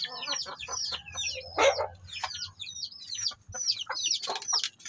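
Shamo heritage-breed chickens cluck and chatter in a busy barnyard, with bird chirps and calls overlapping throughout, fairly close and steady.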